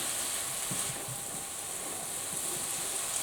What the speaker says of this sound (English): you can hear when the temperature drops, the sizzling goes lower